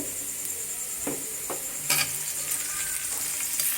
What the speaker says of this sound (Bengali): এখন টমেটো কুচিটা দিয়ে নিব